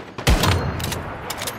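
Gunfire in the video game Once Human, a short burst of sharp close shots followed by a few quicker cracks over about a second and a half.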